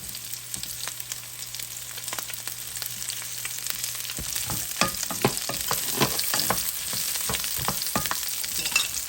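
Onions fry in oil for pork adobo, a quiet sizzle that turns busier after the onions go in, with scattered crackles and pops from stirring.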